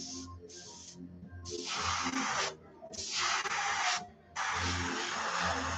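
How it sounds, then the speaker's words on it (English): Airbrush hissing in four bursts as black paint goes onto a shad swimbait lure, each spray a loud, close, steady rush of air with short pauses between. "You got to be careful when you're spraying black."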